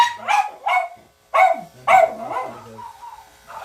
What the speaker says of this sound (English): I'm setting the dogs off.